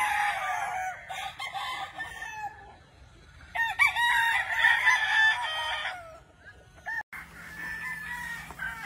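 Several gamefowl roosters crow at a game farm in Sorsogon, loud, overlapping calls rising and falling in turn, with faint clucking between them and no talk.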